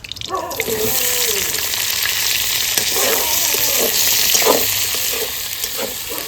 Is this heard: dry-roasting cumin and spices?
yes